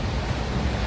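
Fast-flowing river water in Spiti rushing in a dense, steady broadband roar, close and loud, mixed with wind buffeting the microphone.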